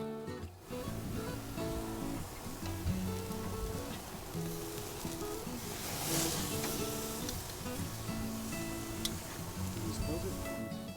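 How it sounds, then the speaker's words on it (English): Flank steak for fajitas sizzles on a hot grill, a continuous close crackling hiss that runs the whole time beneath a speaking voice. "You can hear that nice sizzle."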